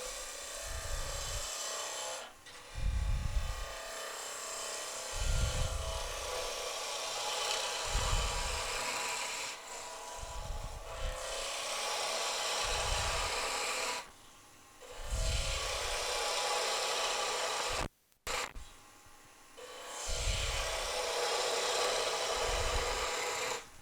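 A medium skew chisel cutting a wooden spindle on a lathe gives repeated rhythmic scraping strokes, each a short rasping burst over the steady hum of the spinning lathe, close and clear with no talking.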